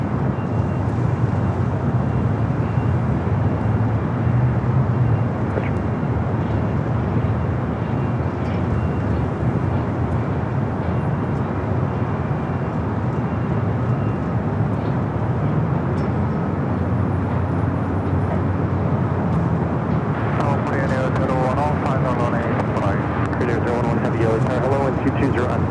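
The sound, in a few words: airplanes at Los Angeles LAX airport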